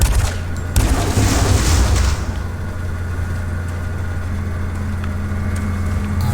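Gunfire and a booming blast in the Doom 3 video game on Switch, loud for about two seconds, then settling into a low steady rumble of ambient game noise.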